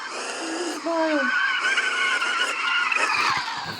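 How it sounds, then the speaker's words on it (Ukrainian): A car in a video game skids, its tires squealing in long, loud, wavering screeches over a revving engine for several seconds. "Заносить трохи."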